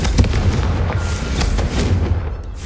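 Confringo spell blast in Hogwarts Legacy, a booming explosive burst followed by a rumbling roll of crackles and thuds that slowly fades.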